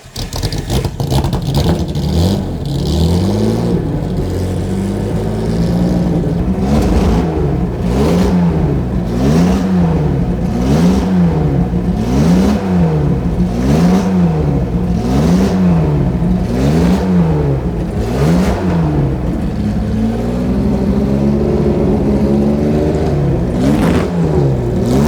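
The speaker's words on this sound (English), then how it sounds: "Straight six. Yeah. Jaguar engine. Twin overhead cam." A loud, close Jaguar D-Type race car engine, a 1955 twin-overhead-cam straight-six, revs up and down repeatedly in steady cycles, a deep throaty roar rising and falling throughout.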